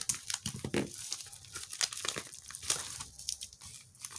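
Packaging from a mailed giveaway parcel crinkles and rustles close up as it is pulled open, with irregular crackling bursts and a brief tearing sound, no talking.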